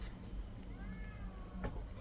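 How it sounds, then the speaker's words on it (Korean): A cat lets out a single faint, drawn-out meow somewhere in the room, sitting over a low background hum. "고양이가 많이 오네."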